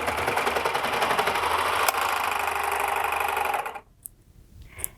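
A Baby Lock Accolade sewing machine stitches steadily through four layers of denim, a close, even mechanical whir that runs for several seconds, then stops abruptly, leaving quiet with a couple of faint clicks.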